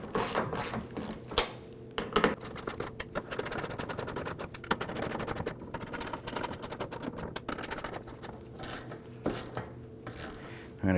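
Ratchet wrench snugging the fuel tank bolts on a 2005-2009 Subaru Legacy 2.5L H4: close, rapid clicking pawl runs in repeated bursts with short pauses between strokes, and no talk.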